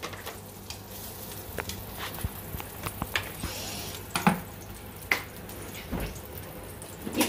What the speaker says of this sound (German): Jetzt einfach ein bisschen Öl in die Pfanne.